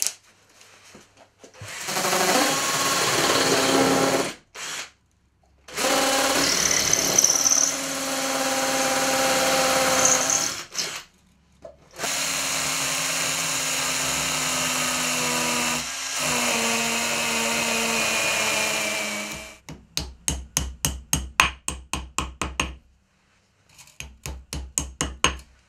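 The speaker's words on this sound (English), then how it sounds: "drilling into that masonry block from the side" A hammer drill grinds loudly into a masonry block from the side in several long bursts with short pauses, ending in a series of rapid stuttering pulses as it stops and starts.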